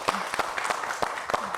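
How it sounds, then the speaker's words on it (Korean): Studio audience applause welcoming a guest on a Korean TV health talk show, brief scattered claps, fairly soft and sparse, with voices mixed in. "여러분 큰 박수로 맞아주십시오"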